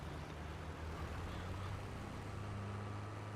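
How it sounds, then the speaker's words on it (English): A truck rolls nearby in Farming Simulator 22, heard as a faint, steady low engine rumble with soft road hiss that continues evenly throughout, with no voices. "I thought I heard a truck behind me."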